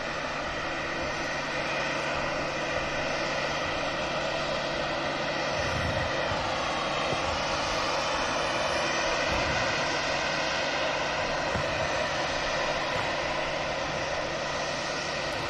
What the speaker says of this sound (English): TAP Air Portugal pushed and ready for a taxi.